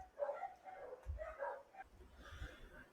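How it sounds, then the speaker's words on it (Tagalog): A dog barks faintly in the distance, giving several soft, spaced woofs over a couple of seconds in an otherwise quiet room. "may tumatahol na aso kanina"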